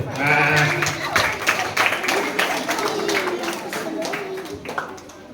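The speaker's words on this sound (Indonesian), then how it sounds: "Tepuk tangan dulu." A crowd claps at a children's Sunday school Easter service, a short burst of applause mixed with chatter and voices.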